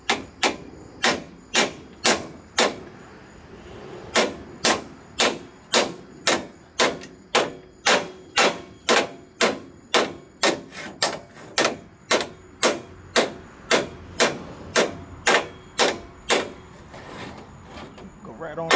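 Hammer blows on the bent metal of a trailer jack: about thirty sharp metallic strikes in a steady, evenly spaced rhythm, close and loud. A few gaps break the series, and faint background noise sits between the hits.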